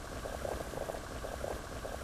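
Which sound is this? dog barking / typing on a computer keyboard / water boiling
water boiling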